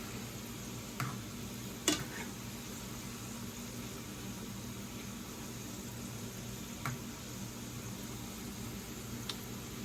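Homemade french fries frying in hot oil, a steady low bubbling sizzle throughout with a couple of brief sharp pops, close and fairly quiet.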